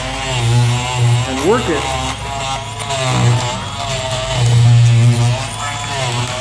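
A 4.0 amp Dremel Multi Max electric oscillating scraper buzzes steadily while it is pushed under old tiles to lift them, its vibrating motor drone loud and continuous, with a person talking over it.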